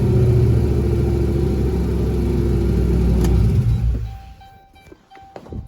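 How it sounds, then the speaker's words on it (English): A turbocharged 6.0 car engine rumbles and revs steadily nearby, loud and throaty, then drops to a quieter idle with faint clicks near the end. "Oh, that's a good sounding engine."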